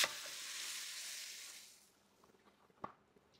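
Freshly heated ghee and oil poured over a kacchi dish, giving a loud broad sizzle that fades after about two seconds, followed by faint crackles and one sharp click.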